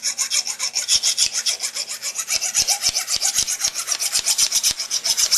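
A multi-tool file rasps steadily along a kukri blade, each close, dry stroke rubbing in a quick, even rhythm through the clip, with no talking.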